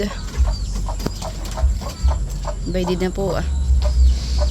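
Backyard chickens cluck and murmur in the background while a person speaks briefly, with some low rumbling noise throughout.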